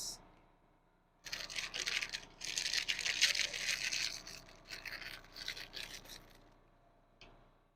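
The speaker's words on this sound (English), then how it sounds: "So here's the Oreos. I'm going to break it on it." Oreo cookies are broken and crumbled by hand over milky puff puff, a close, dry crackling and crunching for several seconds after a quiet pause, fading to a final small snap.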